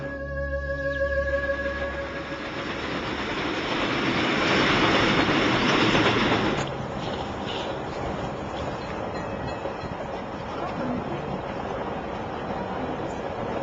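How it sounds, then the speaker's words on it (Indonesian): A Jakarta-Jogja express train runs on the rails with a dense, steady rumble that swells and then drops to a quieter, even roar partway through. "Saya dalam perjalanan bisnis naik kereta ekspres Jakarta-Jogja saat kereta tiba-tiba berhenti."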